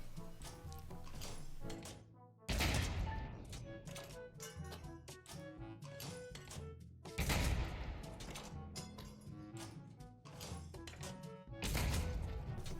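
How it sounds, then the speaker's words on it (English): A tank cannon in the VR shooter Pavlov VR fires at a Sherman tank, with three heavy booming blasts about five seconds apart over a steady clatter of game noise. "I'm just gonna shoot at this Sherman tank here. You press the red button on the top, bam,"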